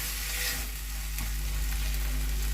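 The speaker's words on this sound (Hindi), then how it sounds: "जितनी देर मेथी इस तरह से भुनेगी, मेथी गलती जाएगी और ये क्वांटिटी में कम होती जाएगी।" Fenugreek leaves being stir-fried in a pan, with a steady close sizzle and a faint scrape of stirring, no voice over it.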